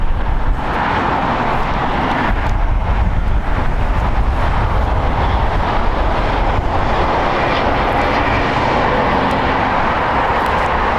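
Spirit Airlines Airbus A320, about ten years old, at LAX: a steady, fairly loud broadband jet roar holding for the full span with no voices.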